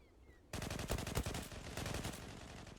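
Sustained automatic fire from an AK-style assault rifle in the online shooter Zula, a dense loud burst of rapid cracks running continuously after a brief quiet lead-in.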